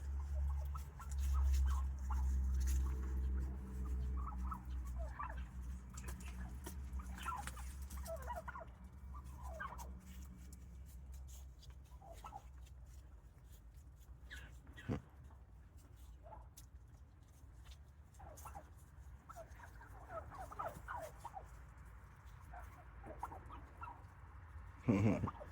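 A wild turkey visiting a backyard gobbles several times in faint, scattered bursts over a quiet low hum, with brief background voices now and then.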